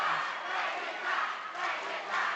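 An audience at a gubernatorial candidates' debate cheers and applauds the candidate pairs, a broad, steady crowd roar with shouting mixed into the clapping, fairly distant.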